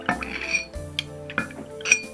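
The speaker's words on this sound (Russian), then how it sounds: "И теперь отправляю в банку 2 ложки катыка." Spoonfuls of katyk starter go into a glass jar of milk, producing a few light metallic clinks and taps of a spoon against glass, close and quiet, without talking.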